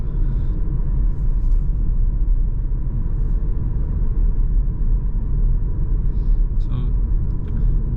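A self-driving Volkswagen travels a rural road near Baden-Baden, its tyres and engine producing a steady, loud low rumble throughout, with a few faint high ticks near the end.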